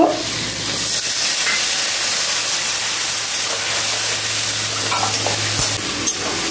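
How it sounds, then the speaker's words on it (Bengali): Taro stem curry with mustard-chili paste is stirred in a pan, giving a steady sizzle and hiss with soft scraping, close and continuous, with no voices. "এবার একটু নাড়াচাড়া করে নিই।"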